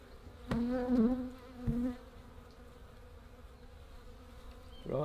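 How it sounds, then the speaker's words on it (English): Honey bees swarm over the top of an open hive kept on a small farm, a close, droning buzz that swells loudly for about a second and a half, fades to a softer hum, then rises again near the end. "lots of bees that I can see on the top."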